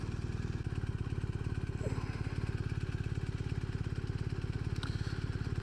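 A BMW R 1250 RS boxer motorcycle sits close by with its engine running, giving a steady, even pulsing throb that holds through the whole stretch, while a voice speaks faintly over it.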